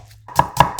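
A knife chops twice on a cutting board while mincing two whole garlic cloves, giving two sharp, close knocks about a fifth of a second apart.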